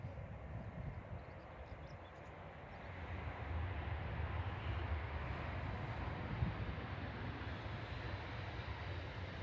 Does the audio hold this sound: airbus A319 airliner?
yes